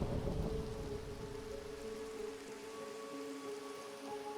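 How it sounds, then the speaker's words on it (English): Steady Minecraft rain hisses evenly throughout, a soft continuous wash with faint low rumbling and no speech over it. "It's quite fitting that it be raining tonight."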